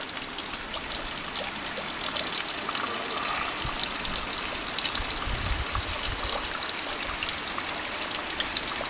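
Floodwater runs off into a ditch, gushing steadily, trickling and splashing nearby for several seconds with no voices.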